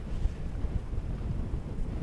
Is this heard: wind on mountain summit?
yes